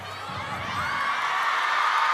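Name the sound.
table tennis arena crowd noise before match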